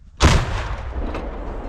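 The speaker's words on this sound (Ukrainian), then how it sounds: "Гармата постріл!" An artillery gun fires: a single heavy boom with a sharp onset, followed by a long rumbling decay and distant echo.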